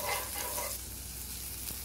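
A burger bun toasts lightly in melted butter in a pan, giving a faint, steady sizzle with a brief hiss at the start and no voices.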